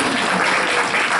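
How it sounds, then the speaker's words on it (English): A dense, close round of applause at a school board meeting for a basketball team that won a hard-fought semifinal, steady clapping from many hands throughout the short burst. "That deserves a round of applause."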